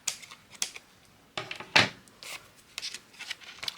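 Small bits being cut off paper card while making envelope embellishments: a few sharp, dry snips and crisp paper rustles, close and fairly quiet, spaced irregularly with one louder cut near the middle.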